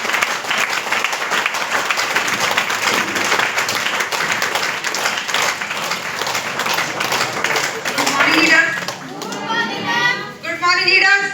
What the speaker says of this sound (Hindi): जब तक मैम स्टेज पर नहीं आ जाती तब तक तालियां रुकनी नहीं चाहिए।